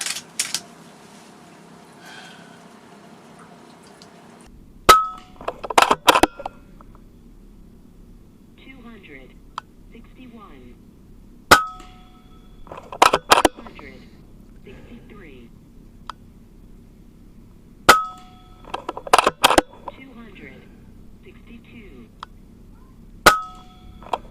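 Air rifle shots fired with JSB Hades pellets: four sharp, isolated cracks spaced several seconds apart, each followed by brief clattering, with a quiet room in between and a little talk near the start.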